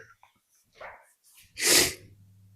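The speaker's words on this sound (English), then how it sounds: "Hopefully you haven't been hearing me snorting and sniffing the whole time" In an abandoned building, a forceful nasal snort bursts out after a few soft sniffs and breaths, close to the mic, followed by a low steady hum.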